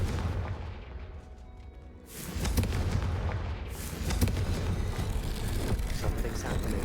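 A Confringo blasting spell in Hogwarts Legacy erupts into a loud, sustained burst of explosive crackle and rumble after a quieter stretch, with the roar continuing to the end and a speaking voice in the background.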